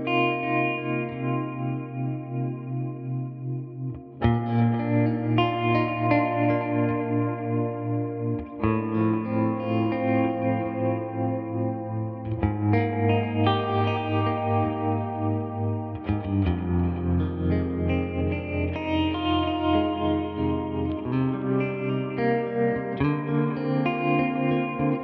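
Electric guitar through a Tone King Imperial MKII amp with a soundscape reverb, a little pre-delay and trimmed highs and lows; washy, echoing chords and swells played continuously and loud for the whole span, with no talking.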